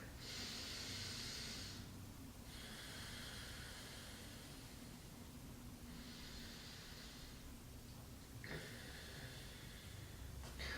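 Slow, deep diaphragmatic breathing during a yoga and Pilates session, steady airy inhales and exhales cycling every few seconds, close and fairly quiet, with no talking.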